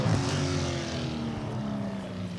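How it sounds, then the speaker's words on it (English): A Cadillac V8 race car engine revving through a short burnout at a Goodwood members' meeting, a loud, throaty rumble with harmonic drone that peaks at the start and holds steadily afterward. "It's that V8 motor there,"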